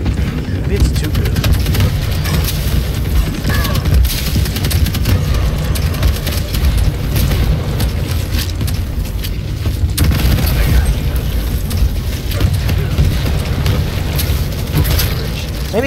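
Rocket launcher explosions in the video game Quake Champions, a dense, continuous barrage of booming blasts and gunfire with no pauses, loud and close throughout.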